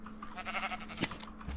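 Sheep bleating in Minecraft with the Direwolf20 1.12.2 mod pack: a short wavering bleat near the start, then a sharp click and a few faint game noises against a steady low hum.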